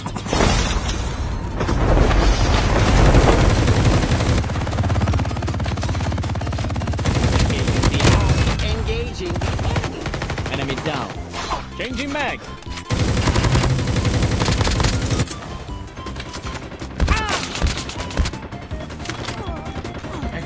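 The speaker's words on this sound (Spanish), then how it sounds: "¿Desde dónde me están disparando, viejo?" Dense video game gunfire during a zombies match, with bursts, booms and rapid shots layered continuously, loud and close, while a voice speaks briefly over the action.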